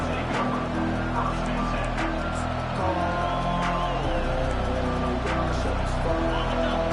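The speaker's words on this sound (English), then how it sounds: "This crowd bringing the energy and noise early" Stadium crowd roaring steadily in an EA college football video game, a dense wash of cheering and noise running the full length under a commentator's voice.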